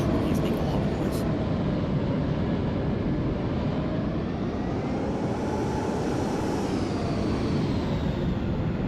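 Aircraft engines in the IniBuilds A300-600 flight simulator produce a loud, steady jet roar with a slowly rising and shifting whine layered over a dense low rumble.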